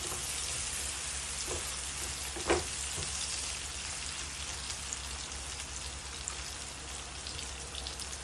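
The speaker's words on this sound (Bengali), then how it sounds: "একটু ভেজে নিব।" Ingredients for a channa and egg curry fry in a pan with a steady crackling sizzle, punctuated by a few light knocks of a utensil, continuous and close with no talking.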